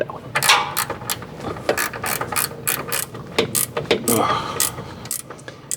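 A ratchet wrench turns a bolt during a Hellcat Hemi engine swap into an RV, giving repeated sharp clicking strokes in uneven bursts, close and fairly loud, with no talking over it.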